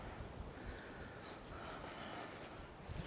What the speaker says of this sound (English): But the wind is unbelievable up here.